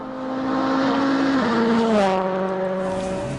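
A Ford rally car driven by Jari-Matti Latvala on a high-altitude gravel stage in Mexico, its engine loud and close, rising and then dropping in pitch through a gear change before pulling away.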